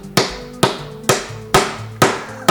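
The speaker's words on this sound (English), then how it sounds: "Lovely hammering." A toy hammer knocks against the plastic nuts and bolts of a hexagon-shape building toy, six sharp taps at a steady half-second rhythm, close and clear with no talking.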